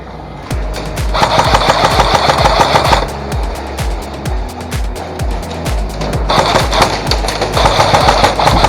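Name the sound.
airsoft gun firing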